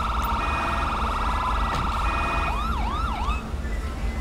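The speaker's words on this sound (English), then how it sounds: "it was my siren after all." A police car siren in GTA V with the LSPDFR mod wails loud and steady, with a rising-falling yelp sweeping in near the end over a constant electronic game drone.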